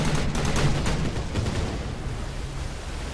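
Hovercraft firing weapons in the strategy game Anno 2070: a burst of rapid gunfire-like pops at the start, fading into a dense, steady rumble of noise.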